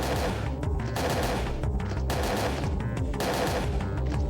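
Rapid automatic gunfire in the video game Parasite Eve 2 rattles continuously in dense, loud bursts with brief gaps, heavy and booming throughout.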